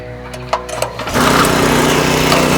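A small garden tiller engine is started: a brief quiet stretch with a few clicks and pulls, then it catches and settles into a loud, steady buzzing run.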